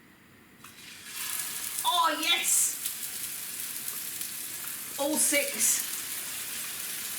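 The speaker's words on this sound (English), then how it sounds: "I think the pan's hot enough. I want them to sizzle." Thin burger patties sizzle loudly in a hot frying pan, two bursts of hissing as they go in, with a person speaking briefly over the cooking.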